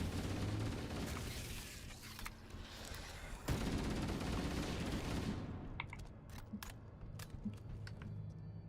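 Bursts of gunfire crackle and boom in the Halo Campaign Evolved video game, including shotgun blasts, dense and continuous at first, with one sharp louder shot in the middle, then thinning to scattered sharp reports.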